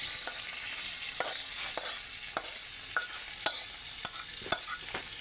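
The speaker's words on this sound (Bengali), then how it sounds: "তো গাইস তেলটা গরম হয়ে গেছে, এবার আমরা এটা তেলের মধ্যে দিয়ে ভেজে নেব" Pointed gourd peel frying in hot oil, a steady close sizzle with regular scraping stirs of a utensil at about one-second intervals and no talk.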